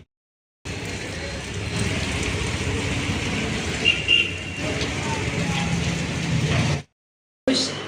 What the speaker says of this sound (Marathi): पाऊस तर असं विशेष काही थांबतच नव्हता